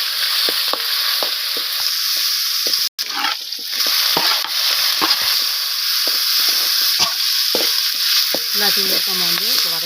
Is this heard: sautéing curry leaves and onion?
yes